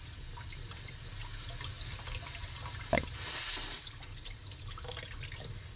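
Dried fish are washed by hand in running water, with a steady, faint trickle and splash of water throughout and one brief, louder splash near the middle.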